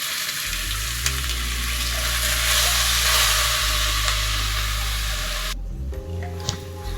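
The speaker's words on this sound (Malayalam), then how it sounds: "പിന്നെ ഇതിൻ്റെ കൂടെ തന്നെ തക്കാളി ഇട്ട് നമ്മൾ വഴറ്റുകയാണ്" Tomatoes and shallots sauté in a pan for South Indian rasam, a loud, close, continuous sizzle and hiss with a low cooktop hum underneath, cut off abruptly near the end and followed by quieter sizzling and a faint clink.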